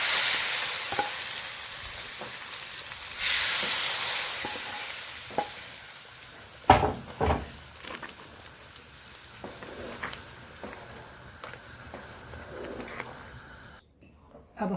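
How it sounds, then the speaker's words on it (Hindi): Spices tempered in hot oil for tadka, sizzling and spitting in a pan with stirring and a few sharp clinks and bangs, close and moderately loud, the frying hiss swelling and easing over time. "अब हम इसमें तड़का लगाएंगे"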